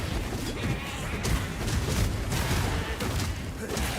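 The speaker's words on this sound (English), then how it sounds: "Annoying goats." Goats bleat loudly and repeatedly in the video game Path of Exile, their calls packed among heavy booming and crackling combat noise throughout.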